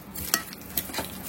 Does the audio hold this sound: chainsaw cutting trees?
no